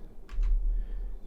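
Two quick, close clicks of an arrow key on a computer keyboard in rapid succession over a low background hum, playing a 1995 DOS game.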